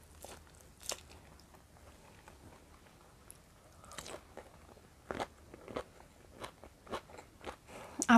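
Fried fish with soft, edible bones being eaten: sporadic close crunchy bites and chewing, quiet and irregular, growing more frequent toward the end.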